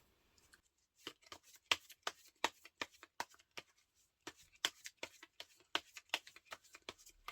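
Tarot cards being shuffled and drawn, a rapid series of crisp riffling snaps and flicks in two bursts separated by a brief pause, close and fairly quiet with no voice.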